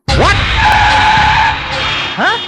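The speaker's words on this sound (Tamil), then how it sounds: "சடனா பிரேக் போடுறியா?" A car brakes suddenly and its tires skid in a loud, sustained squeal of a little over two seconds, with a sharp screech at the start and another at the end.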